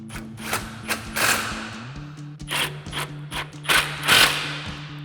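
A 21mm socket on a swivel tightening the rotor bolts on a 2002-2018 RAM 1500 during a brake rotor install, giving rhythmic ratcheting clicks and metallic taps over a low steady hum, close up.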